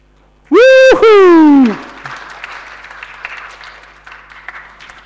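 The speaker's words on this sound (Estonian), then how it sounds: "kui nad tulevad sisse, siis võime aplausi teha teiega" Audience applause welcoming guests at a youth evening event, scattered and fairly soft clapping that follows a loud, brief tonal whoop or horn-like blast at the start.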